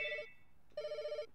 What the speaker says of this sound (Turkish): Aha yine telefon.